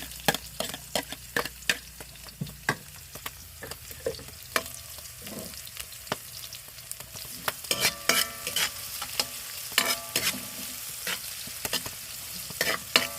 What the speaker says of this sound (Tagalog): Gisahin natin na hanggang mag-browning.